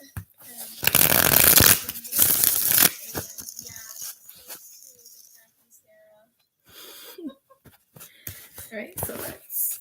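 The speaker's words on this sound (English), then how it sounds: "All right, so let's go ahead and shuffle." A deck of cards for a live question reading is riffle-shuffled in two loud, rushing bursts, followed by quieter card handling and taps while a voice talks intermittently.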